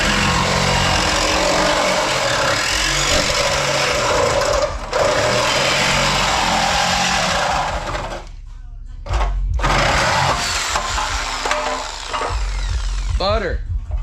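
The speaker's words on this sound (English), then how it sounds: "So let's get drilling." Power drill boring out spot welds on the front end of a race car, a loud continuous whining grind lasting most of the span with brief pauses near the end.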